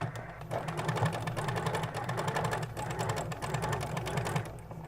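A home sewing machine runs steadily while stitching a sleeve seam, its rapid needle ticking close by and continuous for several seconds, with a short back stitch at the end.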